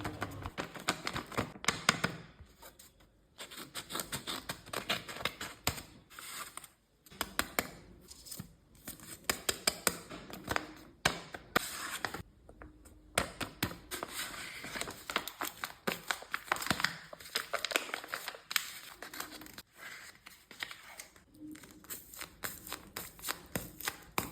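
A handmade blind bag is unwrapped at close range, with dense, continuous crinkling and rustling of packaging and irregular bursts of papery scraping and snipping, broken by a few brief pauses and no talking.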